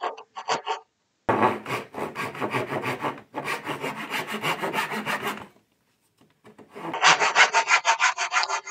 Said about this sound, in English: these two take care of all the crosscut sawing that I do